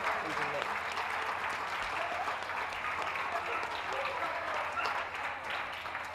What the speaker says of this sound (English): Big round of applause for our judge, Paul Eardley,